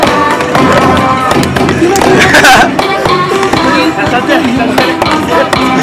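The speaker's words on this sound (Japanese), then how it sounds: "これがダブルストロークです。" Rapid double-stroke roll played on a Taiko no Tatsujin arcade drum, a dense run of quick, even taps and thuds close up and fairly loud, mixed with game music and crowd noise in the background.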